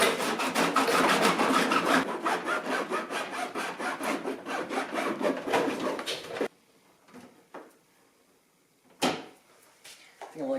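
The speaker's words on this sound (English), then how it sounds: "Clean this edge up with a file and kind of break off all the melted stuff." A file rasps along the melted edge of a Tacoma bumper in rapid, rhythmic back-and-forth strokes, loud and close for about six seconds, then stops, leaving a quiet pause broken by a few scattered scrapes and knocks.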